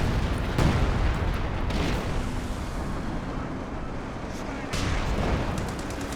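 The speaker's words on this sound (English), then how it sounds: "Concentration barrage from Barton to try and force Hands away" A dense, continuous artillery concentration barrage in Company of Heroes 2 rolls on with repeated heavy impacts blending into a steady roar, and a commentator's voice runs beneath it.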